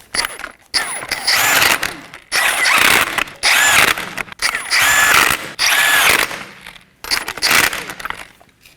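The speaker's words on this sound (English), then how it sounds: "I'm going to snug these down in a crisscross pattern." An impact power tool snugs down 21mm lug nuts on a 2015-2023 Nissan Maxima, firing in six loud bursts of rattling hammering with short silent gaps between each nut.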